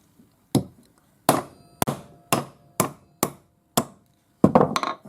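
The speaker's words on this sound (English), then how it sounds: "put your cutter in, give it a good smack, and you can see I've got a pretty heavy hammer" A heavy hammer strikes a metal disc cutter punch again and again while cutting discs for jewelry ring making, with about ten sharp, loud, ringing blows at an irregular pace and clean silence between them.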